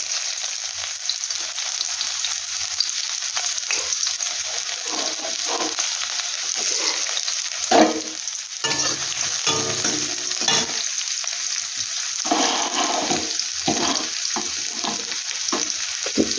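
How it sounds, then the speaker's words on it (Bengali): Onions fry in hot oil in a kadai, giving a loud, continuous close sizzle with bursts of crackling and spatula stirring throughout, no voices. "এবার কড়াইতে দিয়ে দিচ্ছি আমি কিছু পেঁয়াজ"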